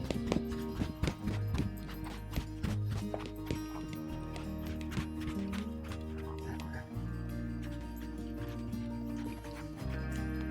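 Rhythmic hoofbeats of a gaited horse moving at a steady pace under a rider, with sharp clip-clop strikes over a constant low rumble.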